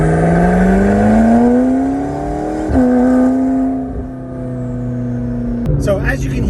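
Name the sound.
sports car turbos and blow-off valves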